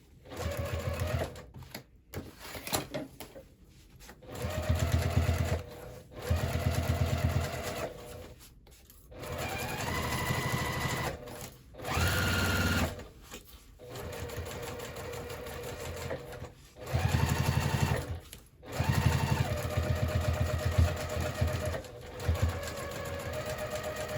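A sewing machine stitches a handbag in repeated bursts of steady mechanical whirring, each lasting a few seconds and separated by short pauses, close and clear with no talking.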